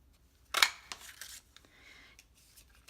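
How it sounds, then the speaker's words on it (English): A 1.5 inch circle punch punches a disc out of paper at a craft table, giving one sharp crisp click-crunch followed by a few softer clicks and rustles as it is handled, close and clear with no talking. "Now I'm going to take my 1 1/2 inch circle punch and I'm going to punch that out."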